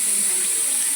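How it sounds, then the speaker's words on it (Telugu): Water poured into a cooking pan while making an Andhra-style chicken leg curry, heard as a steady close hiss of running liquid throughout. "ఇప్పుడు మనం వాటర్ వేసేసుకోవచ్చు."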